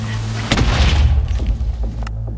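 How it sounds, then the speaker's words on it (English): A deep, booming explosion in a zombie survival game, a loud close blast with a rumbling low tail and scattered debris-like crackles fading after it, over a steady low background hum. "In a sudden explosion, Bilster, the leader of the Golden Bridge Group, was killed"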